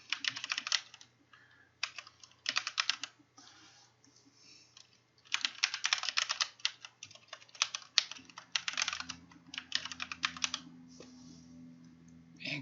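Bursts of fast typing on a computer keyboard as a title is entered, close and crisp clicks in several runs separated by short pauses, with no voices.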